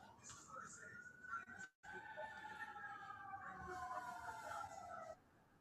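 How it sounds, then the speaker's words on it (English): Emergency sirens wail with a steady rising and falling tone, fairly faint and distant, running for several seconds over low background noise. "And the fucking sirens."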